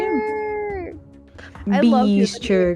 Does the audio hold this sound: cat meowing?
yes